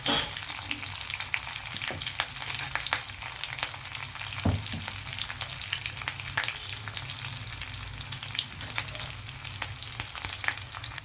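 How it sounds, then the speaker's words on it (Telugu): Ginger chutney fries with curry leaves in oil in a pan: steady sizzling and crackling, with sharp pops scattered throughout and occasional stirring, close by and with no talking. "కొద్దిగా కరివేపాకు కొంచెం వేగిన తర్వాత పచ్చడి వేసాము"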